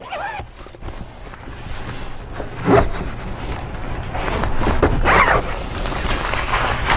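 Zipper on an iKamper Skycamp 3.0 rooftop tent mounted on a car, pulled in a few short, scratchy runs with rustling fabric in between, close by and moderately loud, with no voices.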